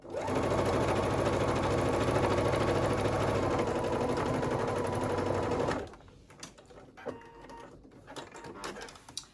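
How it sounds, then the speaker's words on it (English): A sewing machine stitching the back pieces of a summer halter maxi dress runs at a steady, fast, even rattle for about six seconds, then stops, leaving faint handling clicks. "We're going to sew the back pieces all the way down"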